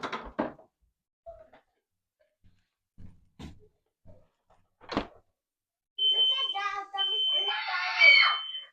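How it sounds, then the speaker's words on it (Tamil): A smoke alarm in a home kitchen chirps and then sounds a sustained shrill electronic tone that runs for several seconds. It comes after scattered thumps and brief voices, including a child's. "மறுபடியும் ஃபயர் அலாம் அடிச்சிருச்சு."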